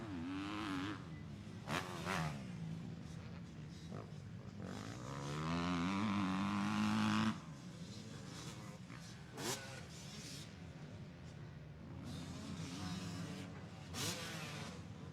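Yamaha motocross bikes racing at Winchester in a 250 A, 250 Pro Sport or Youth A moto, engines buzzing and revving at mid distance, one bike swelling louder and nearer as it passes, then fading into steady track noise.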